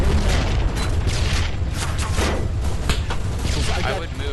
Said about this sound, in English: They're shooting us from the tower.